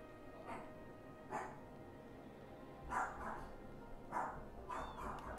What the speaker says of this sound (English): That dog is not going to stop barking.